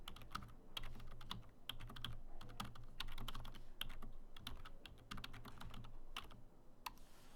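Typing commands on a computer keyboard: a steady run of close, crisp key clicks and taps in uneven bursts, with a faint low hum underneath and no talking.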